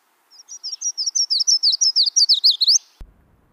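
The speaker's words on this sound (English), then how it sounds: "That was a yellow warbler." A yellow warbler sings a bright, rapid series of about twenty sweet high chirps, loud and clear, ending abruptly with a soft thump.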